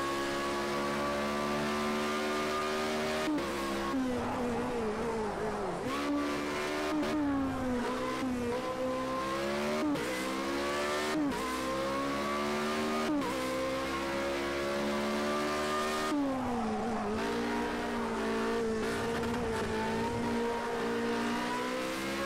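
A race car in Project Cars 2 revs hard and shifts through gears, the engine note climbing and dropping repeatedly over about twenty seconds, loud and continuous with occasional tire squeal.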